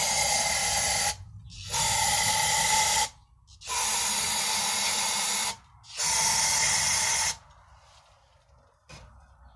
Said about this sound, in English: Let's shoot some brake cleaner down there